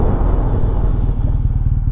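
A 2007 BMW R1200 R motorcycle with a Stage 1 tune riding, a loud, close, steady low engine rumble that holds without break through a short stretch.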